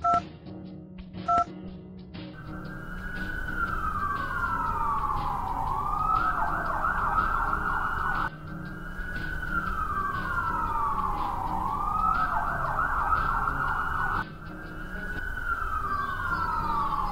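A wailing ambulance siren from a kids' safety video game, rising and falling in repeated sweeps over background music after a couple of short phone-dialing beeps at the start.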